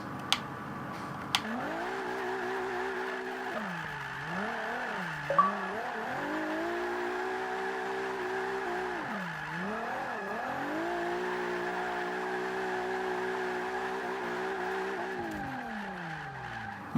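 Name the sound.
Nissan GT-R R35 drifting with tire squeal in Forza Motorsport 5 video game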